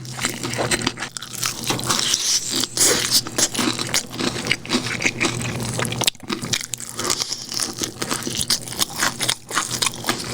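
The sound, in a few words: crunchy fried chicken nuggets being eaten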